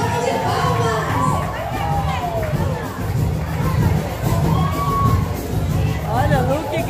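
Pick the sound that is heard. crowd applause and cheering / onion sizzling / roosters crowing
crowd applause and cheering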